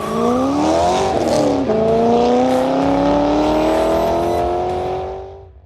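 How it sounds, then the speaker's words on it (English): A loud LS V8 in a 1969 Chevrolet Camaro (LSX 427) revs up, dips, then holds a steady, rising growl for several seconds before easing off at the end. "nothing sounds better than an LS powered 69 Camaro"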